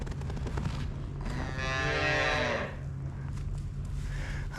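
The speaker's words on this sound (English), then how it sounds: "Curtis just got back from Bellevue with those 7 cows." A cow lets out a single long, loud moo over a low rumbling engine hum, with clattering noise before and after, as cows are unloaded after transport.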